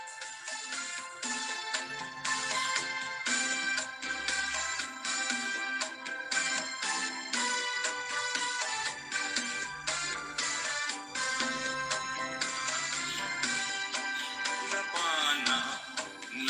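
A cellphone ringtone plays as a continuous, dense electronic melody that stays loud and steady throughout, with no speech over it.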